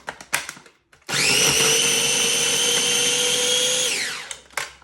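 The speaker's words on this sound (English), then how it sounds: "I'm going to process it for just 30 seconds or so until I can get a nice puree" A mini food processor whirs up to a loud, steady high-pitched motor whine while pureeing, runs for about three seconds, then spins down, with a few close clacks and bumps before and after.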